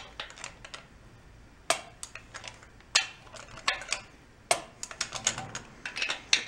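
Torque wrench clicking while tightening bolts on a blown-up VW bus engine, a series of sharp metallic clicks in irregular bursts, close and fairly quiet, with no talking.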